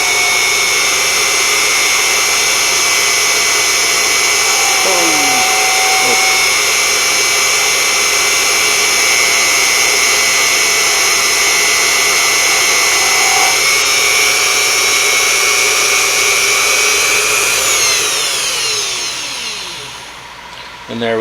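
A Unimat SL1000 mini lathe turns 7075 aluminum with a steady high whine and layered tonal ringing from the cut, close and continuous, with a few shifting pitch sweeps before the tone fades near the end.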